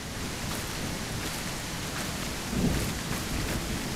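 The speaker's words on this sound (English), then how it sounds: "And as per usual, it's raining and stormy." Steady rain pours in a stormy video game scene, a dense even hiss with a low rumble of thunder swelling briefly partway through.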